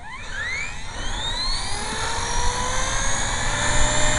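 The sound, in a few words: HK-250GT RC helicopter spooling up in normal mode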